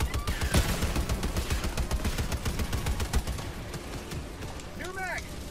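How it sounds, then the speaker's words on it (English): Rapid gunfire from Automaton bots in Helldivers 2, a dense rattling stream of shots and impacts that thins after a few seconds, with a player briefly talking near the end. "Why are you shooting us from that distance?"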